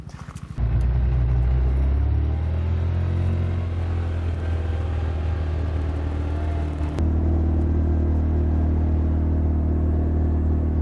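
A pickup truck driving during a Saskatchewan black bear hunting trip, a loud, steady low engine rumble heard from inside the cab, with a slight shift in tone partway through and no talk.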